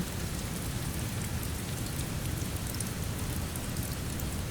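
Steady rain falls, a dense even patter of drops on a surface, continuous and close with no voices.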